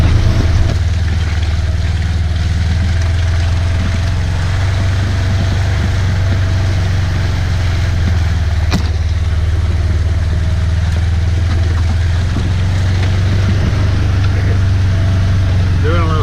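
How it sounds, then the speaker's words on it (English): A Ranger utility vehicle riding along farm trails, its engine a steady loud droning hum running continuously from near, with someone talking over it. "Scouting and riding a couple of places that I never will go on the Ranger during the season."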